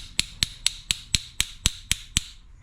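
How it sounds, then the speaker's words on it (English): Nine evenly spaced, sharp metallic taps on a Honda pressure washer carburetor, each a bright ringing click up close in a quiet room, slowing slightly toward the end. "And we'll just keep on tapping."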